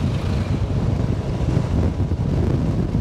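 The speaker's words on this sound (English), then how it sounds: "it's really windy at the moment" Strong wind buffets the microphone during a motorbike ride on an island in Vietnam, a loud continuous roar with gusty fluctuations and no voices.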